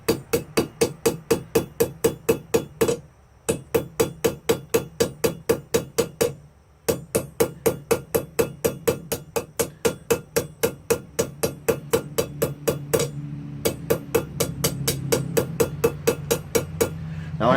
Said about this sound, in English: Now I'm tapping a little bit harder, I'm sure you can hear that.